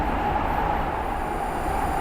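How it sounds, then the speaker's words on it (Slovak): Prague metro train slowing down as it approaches a station, a steady loud rumble of wheels on rails with a thin high brake whine running throughout, heard from inside the carriage. "Už brzdíme, lebo už sme pred stanicou."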